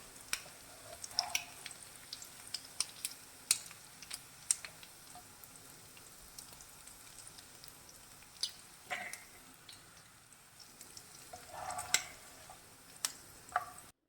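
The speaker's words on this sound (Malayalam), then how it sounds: "ഇപ്പോൾ ഇത് ഫ്രൈ ചെയ്യാൻ വെച്ചിട്ടുണ്ട്. ഇപ്പോൾ ഫ്രൈ ആയിട്ടുണ്ട്." Prawns fry in oil with faint, scattered pops, ticks and crackles, plus brief bursts of sizzling spatter over a quiet background.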